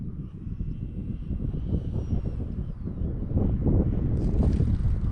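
An Arrows RC Marlin 64mm electric ducted-fan jet lands outdoors, heard as a steady whooshing fan whine under heavy wind buffeting on the microphone, with a higher tone rising near the end.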